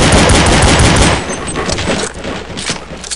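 AK-47 gunfire in Counter-Strike, a loud rapid burst of automatic shots for about a second, followed by several scattered single pops and trailing echo.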